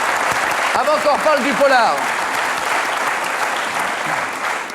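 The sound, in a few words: studio audience applause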